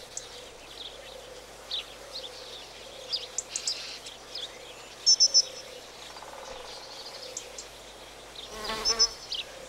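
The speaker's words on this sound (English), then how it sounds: "The bee grapples with the column of the orchid in much the same way as it gathers pollen from the rock rose" A bee buzzes at a wild orchid flower in Israel, a close, fluttering drone with short louder bursts, while faint bird chirps sound in the background.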